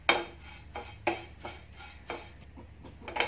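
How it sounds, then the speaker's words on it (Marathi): Flattened rice (poha) is stirred while dry-roasting in a pan, with a steady series of six or seven scraping, rustling strokes of a spoon against the metal, close up with no talking. "1/2 वाटी पोहे घ्यायचे आहेत, पोहेसुद्धा थोडे भाजून घ्यायचे।"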